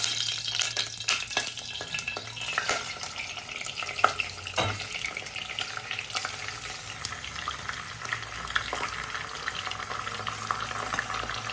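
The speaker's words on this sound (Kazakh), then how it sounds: "Енді осы күрішімізді осы майда қуырып аламыз" Rice fries in melted butter in a pan, a steady soft sizzle broken by frequent scraping and stirring clatters, close and without speech.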